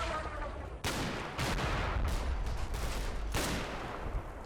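Bolt-action rifle fire in a Combat Mission Normandy battle, a few sharp single reports spaced apart over continuous rumbling battlefield noise, moderately distant and fairly quiet.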